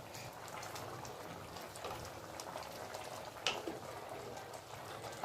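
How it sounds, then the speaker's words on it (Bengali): A pan of cauliflower roast gravy made with nuts and yogurt bubbles at a steady boil, giving a continuous close simmering hiss with small pops throughout and no voices. "দেখুন খুব ভালোভাবে ফুটে গেছে, খুব ভালোভাবে ফোটা দরকার"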